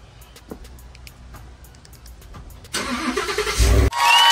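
Ford F-150 truck engine starting: quiet ticking and clicks, then the starter cranks and the engine catches into a loud, rough idle with a short rev near the end.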